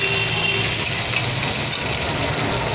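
Onion frying over high flame in a hot pan for aloo palak baingan sabzi, a steady close sizzle with no pauses.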